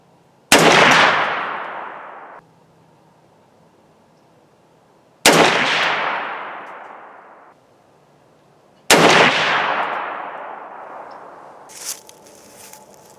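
Three loud rifle shots from a scope-mounted SKS, each a sharp crack with a long rolling echo, spaced several seconds apart outdoors, with faint shuffling after the last.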